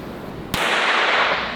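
A single sharp gunshot-style crack from a gun sound effect played in a room, sudden and loud, followed by a long bright reverberant tail that fills the space.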